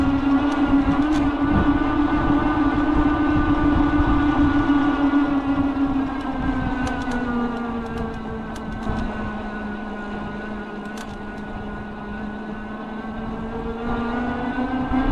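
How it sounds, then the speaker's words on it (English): A Ride1UP Portola electric bike motor whines steadily at close range while riding, its pitch sliding gradually lower and then creeping back up, with faint wind rumble underneath. "I'll kind of be quiet through this next section so you can hear the motor yourself."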